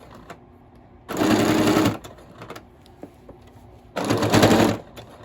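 A sewing machine stitches fabric and ribbon for a padded journal cover. It runs in two close, loud, steady bursts of about a second each, separated by quiet handling noise.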